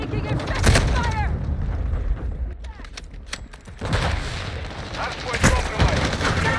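Gunfire in the Modern Warfare 2 video game, with MX5 submachine gun action in a Hardpoint match: bursts of shots and booms crackle through a busy mix, while game announcer callouts are heard in the mix.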